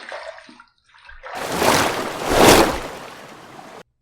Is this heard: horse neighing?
no